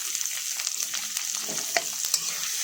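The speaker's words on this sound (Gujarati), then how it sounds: "તલ થોડા એ થઈ જાય આ રીતે એટલે તેમાં ડુંગળી નાખી દઈશું" Sesame seeds and onions sizzling together in hot oil, a dense, continuous crackle with light stirring scrapes, close and steady, no talking.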